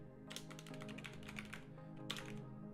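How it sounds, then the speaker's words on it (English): Rapid keystrokes on a computer keyboard while a terminal command is typed, a dense run of close clicks with a short pause and a final burst near the end. "So we're gonna type in the following command"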